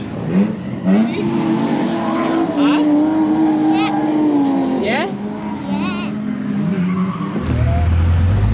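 A boat-bodied drift car revs hard and skids, its engine note rising and falling in long sweeping pulls with tyre squeal, loud and close, while people exchange short words over it.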